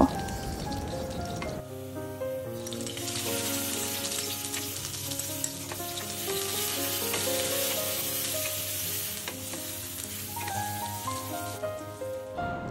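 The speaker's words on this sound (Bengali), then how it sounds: "আমি এখানে রসুন কুচি আর পেঁয়াজ কুচি প্রথমে একটু ভেজে নেব।" Chopped garlic and onion hit a hot pan and fry, a loud, steady sizzle that starts abruptly and crackles evenly throughout with no voices.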